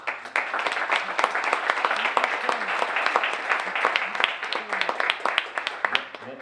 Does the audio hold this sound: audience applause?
yes